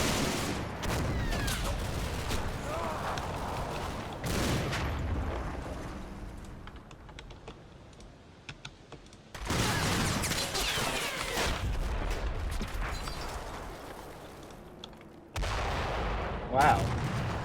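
Gunfire in a video game, shots coming from atop a church tower: sporadic bursts and booming reports with quieter stretches between, a voice talking intermittently over the shooting.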